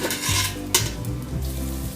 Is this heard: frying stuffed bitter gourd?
yes